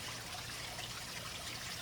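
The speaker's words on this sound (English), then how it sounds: "I'm over by where I have a water spill coming out on the rocks there" Water spills out over rocks and trickles into a backyard pond, a steady soft splashing hiss heard alone at low level.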